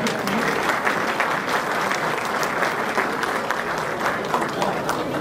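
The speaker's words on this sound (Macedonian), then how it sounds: "Ќе ве замолам за еден аплауз за сите нив." Continuous applause from a concert audience in Melbourne, a dense even wash of many hands clapping, loud and close, with some crowd noise mixed in.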